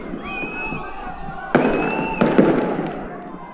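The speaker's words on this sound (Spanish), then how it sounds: "fuertes dinamitazos se ha escuchado" Loud dynamite blasts go off at a street protest march: sharp bangs cut through a constant crowd roar, with one heavy blast followed by a quick cluster of cracks about a second later.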